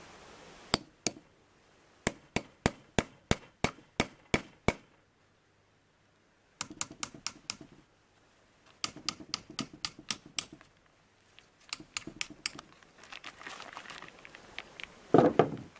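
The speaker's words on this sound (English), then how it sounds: "give it a couple of nice taps with a hammer" Sharp metallic taps ring out in quick bursts of several strikes each, close and crisp, separated by brief pauses, a hammer driving a grommet hole cutter through a tarp.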